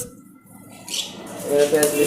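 Birds squawk and chirp at a bird shop stock point, faint at first and then louder in short bursts toward the end, with a little talking underneath.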